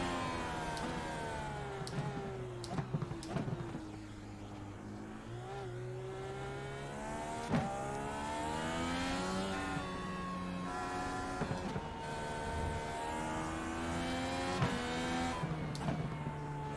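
A car engine in Gran Turismo 7, driven slowly with a Thrustmaster T-GT II wheel in PSVR2, hums steadily with rising and falling harmonic whine as it shifts and accelerates, with faint clicks and bumps throughout and no talk.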